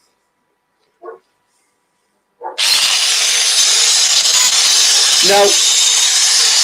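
Proxxon long neck grinder cutting into wood held on a locked lathe, starting abruptly after a short silence and then running as a loud, steady high-pitched whine, with a dog's bark and a brief spoken word around it.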